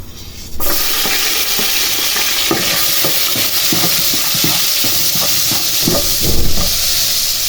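Garlic sizzles and fries steadily in a hot pan, with a loud continuous hiss and repeated scraping stir strokes throughout, no voices.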